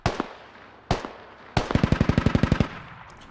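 Gunfire in the Squad military shooter game: two single loud close shots, then a rapid burst of about a dozen evenly spaced rounds, with no talking.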